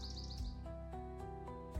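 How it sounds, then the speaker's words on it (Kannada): Small birds chirp and sing in a quick run of bright, repeated tweets, fairly faint and heard alone over a steady tonal musical backdrop. "ಪಕ್ಷಿಗಳು ಮತ್ತಷ್ಟು ಕಿಚ್ಚಾಗಿ ಹಾಡಲು ಪ್ರಾರಂಭಿಸಿದವು."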